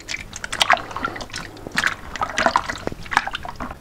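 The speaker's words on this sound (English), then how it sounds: "I'm gonna continue squishing the last remaining bits of strawberry" Hands squish and knead crushed strawberries for wine, making close, wet squelches, drips and sloshes in irregular bursts.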